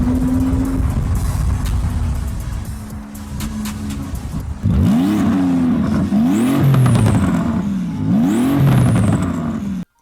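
A Porsche GT2 RS with an aftermarket exhaust revs hard, several sharp rising-and-falling engine blips after a steady idle, loud and close with no talking.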